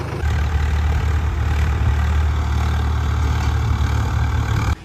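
A Mahindra 275 Arjun tractor, a 2018 model, idles with a continuous deep diesel rumble, loud and close, steady throughout.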